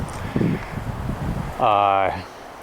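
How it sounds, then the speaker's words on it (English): Low, rumbling wind buffets the microphone steadily on a mountain, with a voice briefly speaking over it near the end. "It's a little windy up here on the mountain today."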